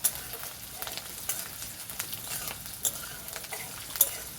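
Chopped chillies stirred into a frying mixture for khasta singara, a continuous sizzle broken by spoon scrapes and sharp metallic clicks, close and without voices.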